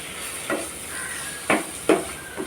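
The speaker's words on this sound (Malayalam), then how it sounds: "ഇതും കൂടെ ചേർത്ത് നമുക്ക് നല്ലോണം ഒന്ന് ഇളക്കാം" Chili powder being stirred into a mashed potato mixture for a Kerala-style dish, heard as a few soft scraping strokes spaced out over a steady low hiss, close and fairly quiet with no talking.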